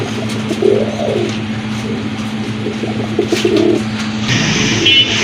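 Pigeons coo steadily in a pen of domestic and foreign breeds, soft repeated throaty calls close by over a constant low hum, with a brief clatter near the end.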